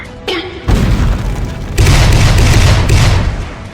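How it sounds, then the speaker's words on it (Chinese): An explosive talisman blasts in an animated fantasy duel: two loud, deep booms about a second apart, each followed by a sustained, rumbling roar. "这是爆炸符"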